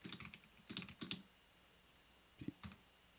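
Computer keyboard typing in short bursts of quick key clicks, a cluster of strokes, a pause, then a few more taps, close and fairly quiet with no talking.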